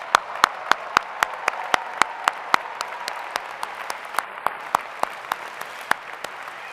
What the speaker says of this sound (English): Let's give that group one more round of applause.